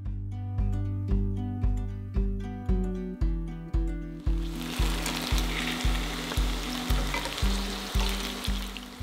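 Potatoes deep-frying in cooking oil until crispy and golden, a steady hissing sizzle under a loud, rhythmic backing music track, with no talking.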